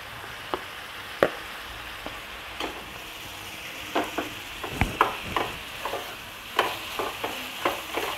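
Onion, tomato and garlic frying in oil for squid masala, a low sizzle broken by repeated scraping and stirring knocks of a spoon against the pan, irregular and close.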